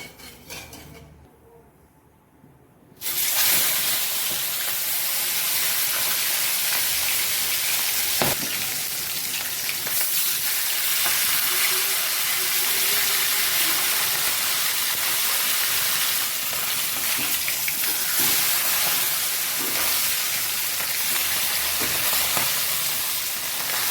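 Fish heads frying in hot oil in a wok (kadai), a loud continuous sizzle that starts abruptly after a quiet moment and keeps crackling steadily throughout, with an occasional scrape of stirring.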